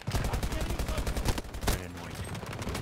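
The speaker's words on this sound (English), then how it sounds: "How do I literally spawn into gunfire?" Gunfire in the video game Battlefield 2042, with loud rapid bursts of automatic fire crackling densely over the first part and a sharp burst near the middle before busier mixed battle noise continues.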